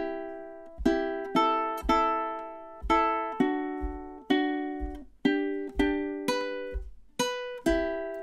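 Ukulele plays the opening two measures of a song: a steady, rhythmic run of bright plucked strums and notes, each ringing briefly before the next, close and clear with no voices.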